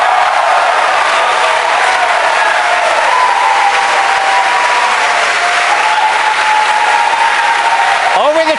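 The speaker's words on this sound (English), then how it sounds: "Over the cheering in the background" Crowd of people at SpaceX cheering and applauding during a Falcon Heavy launch as the side boosters separate, a dense, sustained roar of clapping and shouts that continues loud and unbroken throughout.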